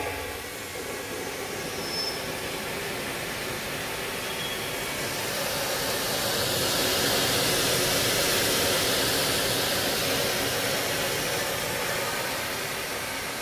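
An XpetPee extraction machine cleaning oriental rugs in a rug-cleaning warehouse produces a steady, loud broadband roar and hiss that swells slightly midway and holds continuously, with no voices.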